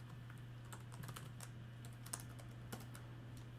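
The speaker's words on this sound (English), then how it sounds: "I typed some weird stuff at the end there." Quiet typing on a computer keyboard while entering code for a Unity debug script: scattered soft key clicks, irregular and close, over a steady low electrical hum.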